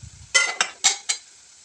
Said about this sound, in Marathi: जे सगळे जिन्नस आपण टाकलेत ते सगळे मी मिक्स करून घेते तेलामध्ये